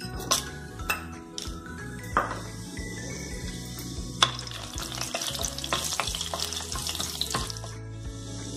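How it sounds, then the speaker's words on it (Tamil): Whole biryani spices such as bay leaf, cinnamon, cloves, cardamom, star anise and marathi moggu sizzle in hot oil and ghee, with steady frying crackle, a few sharp clinks and stirring scrapes of a utensil against the pot throughout. "இப்போ எண்ணெய் நெய் நல்லா காஞ்சதும் இது கூட நம்ம பிரியாணி ஐட்டம் எல்லாம் ஆட் பண்ணிக்கலாம்"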